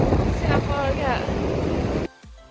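Rough, wild surf at Sandymouth Beach near Bude in Cornwall, a steady broadband wash of breaking waves with wind buffeting the microphone, dropping away abruptly near the end.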